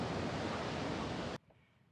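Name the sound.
ocean waves on a Gulf Coast beach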